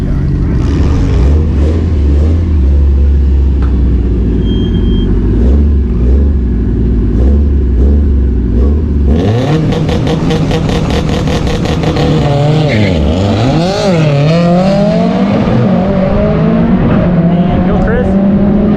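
A rotary-engined 6466 race car at a drag-style track day, its engine idling loudly, then launching with a sharp roar and climbing through rising revs with a gear change, close and loud, while people talk nearby.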